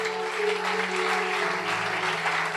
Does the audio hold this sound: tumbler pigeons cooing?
no